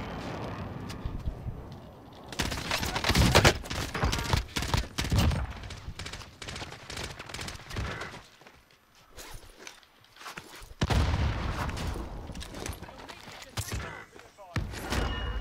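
Call of Duty Modern Warfare gameplay erupts in bursts of rapid gunfire, dense automatic volleys and sharp shots in two loud clusters separated by a quieter lull, with occasional brief voice underneath.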